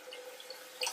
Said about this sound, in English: We're just going to go ahead and add some cold water to our